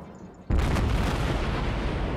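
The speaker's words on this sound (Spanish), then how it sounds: "Ya me están cayendo proyectiles al lado." Naval artillery in World of Warships opens with a sudden heavy boom, then a sustained loud rumble of incoming shells firing and landing nearby, a dense low roar with no clear separate hits.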